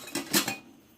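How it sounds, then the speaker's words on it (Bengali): A metal lid set over a pot of milk in a home kitchen, a couple of quick clattering, clinking contacts in the first half, then quiet. "দুধটা আগে ঢেকে নিই"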